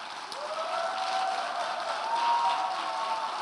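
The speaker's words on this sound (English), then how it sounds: "you can keep clapping for them" A seated audience at a middle-school awards ceremony keeps up steady, dense applause, a continuous wash of clapping from many hands that holds level throughout, with no talking over it.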